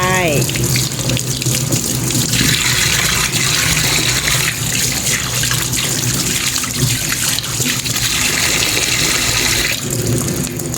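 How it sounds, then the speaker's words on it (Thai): Cold tap water runs steadily into a kitchen sink drain just after hot water was poured in to clear grease, a continuous close splashing rush lasting throughout with no pause. "จากนั้นเราก็เปิดน้ำเย็นตามไป"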